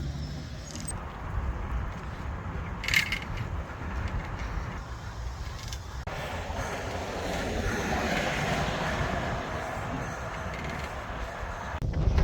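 Steady low rumble at Ebbsfleet train station with rolling train noise and a few brief clicks, continuous and moderately loud throughout.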